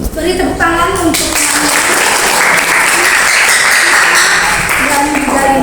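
Classroom applause after a coaching session for academic supervision. Voices speak first, then a loud, dense burst of many hands clapping rolls on steadily for several seconds before talk resumes.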